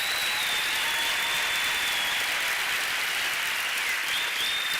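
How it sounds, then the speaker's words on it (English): Steady, dense applause from a large crowd at a university graduation ceremony, loud and continuous throughout with no pauses. "Can you please give them a round of applause?"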